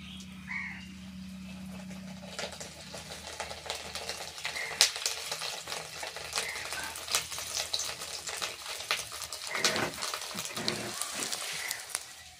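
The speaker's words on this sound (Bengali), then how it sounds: "বড়াগুলো ভেজে নেব।" Fish-roe fritters fry in oil with a dense, crackling sizzle and sharp spattering pops close by, starting over a low hum and growing busier as the frying goes on.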